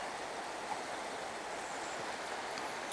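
A small river in the Cairngorms, Scotland, flows with a steady, even rush of water, moderately faint and unbroken throughout, with no voices.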